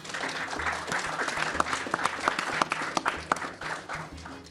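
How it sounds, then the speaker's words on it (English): An audience applauds steadily at a live media event in New York City, a dense, continuous wash of many hands clapping with a few sharper individual claps standing out. "So let's give him a round of applause."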